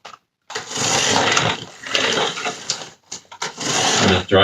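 A Grave Digger Monster Jam RC monster truck drives in reverse with a buzzy, high-pitched electric motor whine in loud surging bursts, broken by brief pauses.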